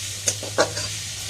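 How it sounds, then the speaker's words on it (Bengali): Vegetables (Malabar spinach with stalks, pumpkin and potato) fry in a pan, giving a steady close sizzle broken by two or three short scraping stirs over a brief stretch. "একটুখানি ভাজা হোক তারপরে নামিয়ে নেব"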